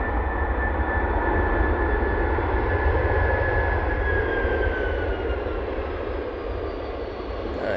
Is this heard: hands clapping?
no